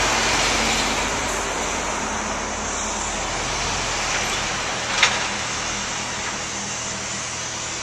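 General road traffic outside a flat, heard as a steady broad rumble of passing vehicles with a brief louder swell near the middle, no voices over it.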